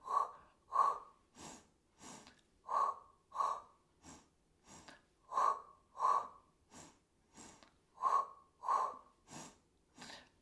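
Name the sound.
rhythmic exhaling and inhaling during a Pilates exercise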